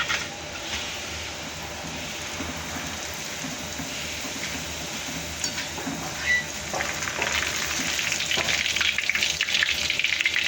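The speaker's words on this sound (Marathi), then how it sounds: "थोडे थोडे पोहे टाकून आहे ना तळून घ्यायचे पोहे" Poha frying in hot oil for chivda, a continuous bright hiss of bubbling oil that grows denser and louder toward the end, with an occasional light clink.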